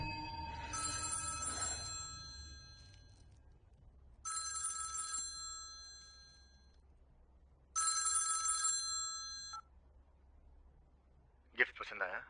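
A telephone bell rings in three separate bursts with pauses between, moderately loud, over low background hum; a brief sharp sound follows at the end.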